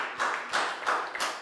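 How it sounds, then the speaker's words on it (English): A small class of young students clapping together in a classroom after a math lesson, four evenly spaced, close claps with no talk. "Big round of applause."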